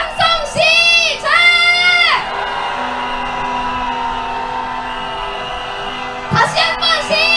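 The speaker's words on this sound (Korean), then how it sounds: "크게 한번 함성 질러봐도 되겠습니까?" Candlelight protest marchers in front of an embassy let out loud collective yells in short bursts at the start, fade to a murmuring crowd, then shout together again at the end.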